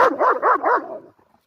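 A dog barks four times in quick succession, loud and close, each bark a short wavering yelp, the last one trailing off into quiet.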